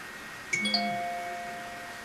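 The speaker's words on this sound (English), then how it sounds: "that's just my phone alerting me that I have an appointment" A brief two-note phone alert chime rings out once, a soft ding-dong with a lingering ring against quiet room noise.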